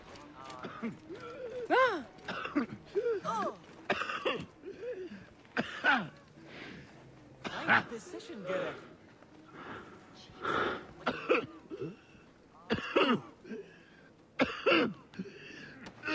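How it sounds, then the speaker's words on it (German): A character coughing repeatedly in Assassin's Creed Origins, harsh hacking coughs and throat-clearing in irregular bursts, close and fairly loud, separated by short quiet gaps. "da ist auch einer am Husten"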